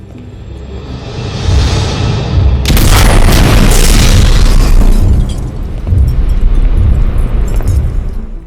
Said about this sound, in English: The apartment explodes in a carefully orchestrated blast, covering their tracks.